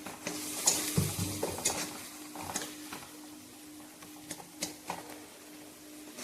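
Spices for a fish curry stirred and sautéed in a pan, a soft steady sizzle broken by scraping spatula strokes and light clicks, quiet and close with no voices.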